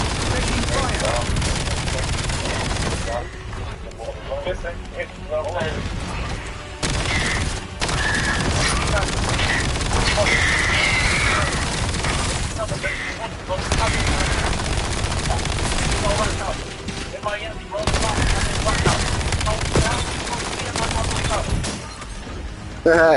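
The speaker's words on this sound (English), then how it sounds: "Taking fire." Rapid bursts of automatic gunfire and explosions from the Black Ops 7 shooter game rattle on loudly and almost continuously, broken by a few short pauses, with a voice talking over parts of it.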